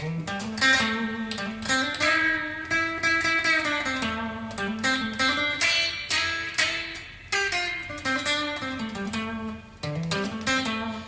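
Clean electric guitar through an amp with spring reverb cranked all the way up plays melody and chords, notes blending and ringing into each other; no one speaks.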